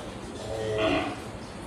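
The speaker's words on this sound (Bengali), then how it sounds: "এটাও একটা দেশি ষাঁড়, কত সুন্দর" A native deshi bull lets out a single low, drawn-out moo that swells and fades, heard close and alone over faint outdoor background noise.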